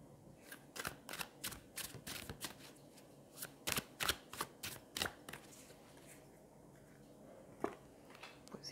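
Tarot cards being shuffled for a reading, a close, quiet run of crisp riffling bursts at a quick, uneven rhythm that thins out after a brief pause.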